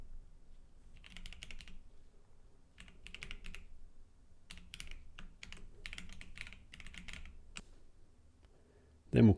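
Someone types an email address on a computer keyboard: soft, fairly quiet bursts of key clicks with short pauses between them, ending in a brief louder thump.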